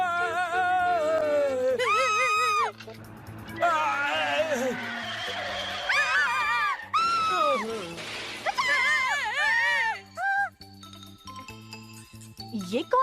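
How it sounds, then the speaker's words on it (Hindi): Loud, wavering screams from a character in a Hindi-dubbed Ninja Hattori cartoon, rising and falling in long bursts over a busy music score with crashes, close and continuous across the scene. "ये कौन चिल्ला रहा है?"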